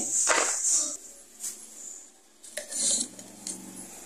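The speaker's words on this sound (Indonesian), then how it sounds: "Yang lainnya hanya diiris seperti ini." Knife slicing chili and garlic on a board, scattered short scraping and tapping cuts, close and fairly quiet, with brief pauses between strokes.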